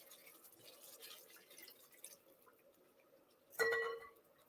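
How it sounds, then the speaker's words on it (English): Water is poured into a Moroccan lentil casserole with butternut squash cooking in a pot, giving a brief splash and drip near the end after quiet stirring sounds and faint background noise. "add a bit of water,"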